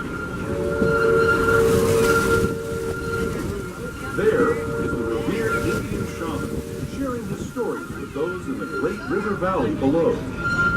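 The Disneyland Railroad steam train runs with a steady mechanical rumble and rattling wheels. A sustained whistle-like tone sounds early on, and a voice talks over much of the ride.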